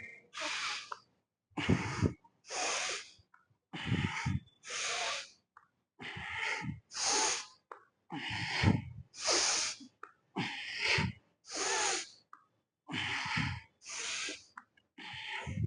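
Heavy rhythmic breathing during kettlebell deadlifts, with sharp inhales on the way down and forceful exhales on the way up. The breaths are loud, close and repeated in steady bursts throughout, with no talking.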